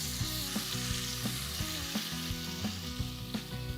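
Ginger-garlic paste, cumin seeds and curry leaves sauté in three tablespoons of hot oil, a steady loud sizzle broken by spoon scrapes and light taps against the pan, with faint background music.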